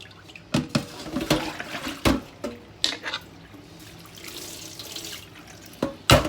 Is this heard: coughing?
no